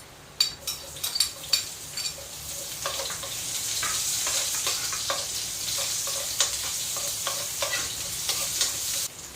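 Garlic and then onion frying in hot cooking oil for pancit canton, a steady close sizzle with sharp clicks and scrapes of a utensil stirring through the pan, strongest in the opening seconds.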